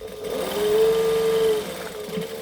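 A sewing machine runs a continuous stitch along the side of a fabric bag, its buzzing whir rising into one sustained run of about a second before easing off. It sounds close and moderately loud, with no talking.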